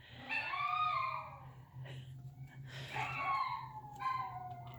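A dog howls at sirens in long, wavering rising and falling notes, several howls in a row, over a steady low hum.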